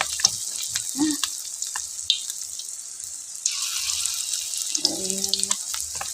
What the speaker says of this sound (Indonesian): Nanggor, nangka goreng.